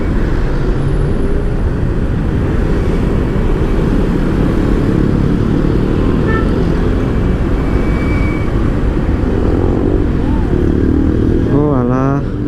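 A motorcycle rides along a flooded road between Sidoarjo and Gresik, its engine droning loud and steady with road and water noise, rising in pitch near the end as it accelerates.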